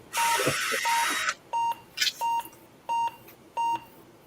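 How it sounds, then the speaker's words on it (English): A retro PC motherboard from 1990 gives an error code as a series of short, evenly spaced electronic beeps, following a brief burst of noise at the start. "8 beeps."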